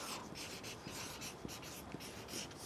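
Pen or pencil scratching across a page while writing a date, faint and close, with short strokes and small pauses.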